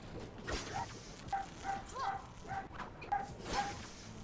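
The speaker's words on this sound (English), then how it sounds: "Otherwise, it just sounds like barking." A dog in the Blade Kitten video game barks and yips in a rapid irregular series of short sharp calls, fairly faint, over a low background.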